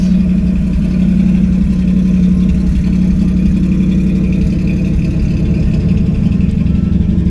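A Plymouth Valiant A-body engine idles steadily while warming up after sitting unused for about two weeks, a loud, continuous low rumble with a faint mechanical clatter and no talking.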